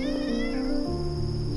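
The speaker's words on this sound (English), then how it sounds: "Can you say goodnight to the cats in the garden and wish them the sweetest dreams?" A cat in a garden gives one drawn-out meow, close and clear, sliding down in pitch partway through, with no voices around it.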